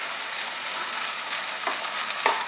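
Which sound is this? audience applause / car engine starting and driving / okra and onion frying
okra and onion frying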